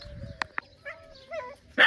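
A dog on a farm gives a couple of short barks and soft whimpering yips, ending in a louder bark, close by with no talking.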